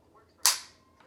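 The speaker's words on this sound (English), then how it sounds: "Crisp trigger." A single sharp, crisp trigger click from a Century Arms VSKA rifle sounds close and alone, with a short decaying snap and a faint second tick just after.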